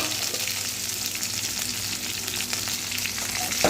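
Okra sizzles steadily in hot oil, a continuous close crackle of frying with no talking.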